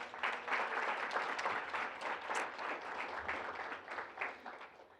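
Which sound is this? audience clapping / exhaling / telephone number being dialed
audience clapping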